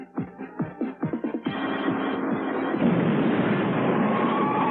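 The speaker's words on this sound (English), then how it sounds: "Look at that explosion." A cartoon explosion, with a run of sharp popping bursts giving way to a loud, sustained rumbling blast that fills the rest of the clip.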